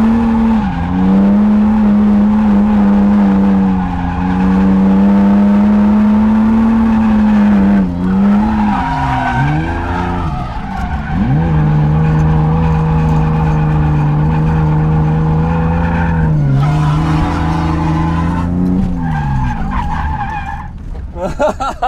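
A BMW E30 drift car circles a skid pad, its engine revving high and falling with gear changes while the tires squeal loudly and almost continuously. The run lasts about twenty seconds, with the engine note rising and dipping throughout.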